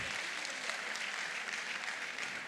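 Steady audience applause fills a conference plenary hall, a dense sustained clapping from a large crowd with no talking over it.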